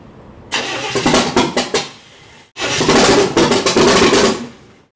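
Engine of a 1960 El Camino cranking and catching in two loud, close bursts, each a run of choppy starter-driven firing pulses that briefly runs rough before cutting out.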